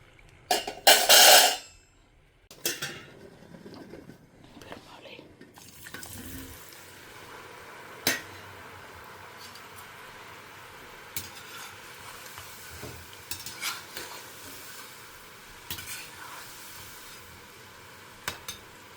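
A batch of uppu seedai fries in hot oil, a soft continuous sizzle broken by a loud splashing burst early on, then scattered clinks and stirring knocks of a utensil against the pan.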